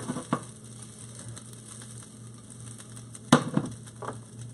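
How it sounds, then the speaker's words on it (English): Almonds and quinoa veggie hash frying in a tossed pan, a steady soft sizzle with two sharp clattering bursts as the pan is jerked, close and alone. "Just going to toss the pan a couple more times here"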